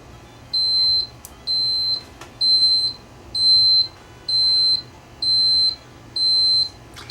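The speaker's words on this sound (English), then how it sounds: "So when it gets to 6:33, it should start beeping." A vintage Casio CQ1 Computer Quartz calculator's alarm beeps in a steady series of eight short, bright tones at an even rhythm, close and clear over a faint background hum.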